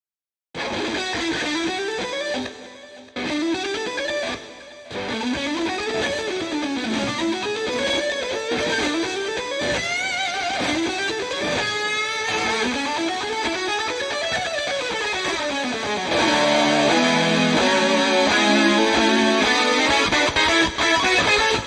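Three layered electric guitar tracks from an outro solo, playing without backing: sustained, overdriven lead lines with sweeping slides and harmonised melodies, loud and continuous, swelling fuller near the end.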